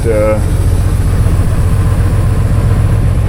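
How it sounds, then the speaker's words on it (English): An automatic pickup truck engine idles with a steady, loud low rumble throughout, after a brief voice at the very start. "We don't use this truck a whole lot for hauling, but"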